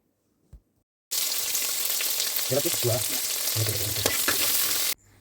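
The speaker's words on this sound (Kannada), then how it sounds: "ಸೊ ಈರುಳ್ಳಿ ಸ್ವಲ್ಪ ಬ್ರೌನಿಷ್ ಆಗೋವರೆಗೂ ಫ್ರೈ ಮಾಡ್ಕೊಬೇಕು." Sliced onions and three green chillies sizzle and fry in a pan at home, a steady loud hiss that starts abruptly after a short silence, with a few stirring scrapes before it cuts off.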